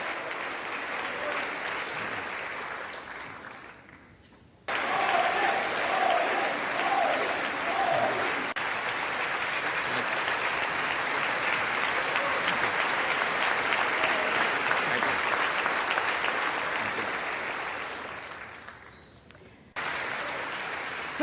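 Sustained applause from a large audience in the US Congress for Indian Prime Minister Modi's speech, loud and steady with a brief lull before it swells again, then fades and resumes near the end.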